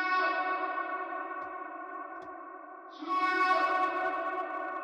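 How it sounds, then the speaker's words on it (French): A sustained sung vocal ad-lib rings out through heavy reverb with an air distortion effect, giving a gritty edge, swelling louder partway through. "Ce que j'ai mis derrière cette reverb, c'est, tac, un air distortion"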